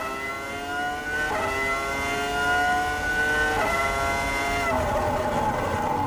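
A 2005 Formula 1 car at Shanghai International Circuit lifts off the throttle, its high harmonic engine whine sliding down in pitch in steps as it slows, loud and steady with no voices.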